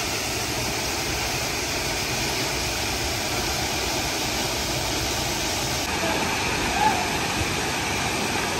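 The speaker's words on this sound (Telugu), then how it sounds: "చూడండి ఫ్రెండ్స్, వాటర్ ఫాల్స్ ఎంత బాగుంటుందండి." Water rushes at Hogenakkal falls in a steady, broad roar that holds evenly throughout without clear breaks, with a faint murmur of activity in the background.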